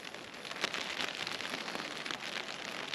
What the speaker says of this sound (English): As you can hear, it started to rain.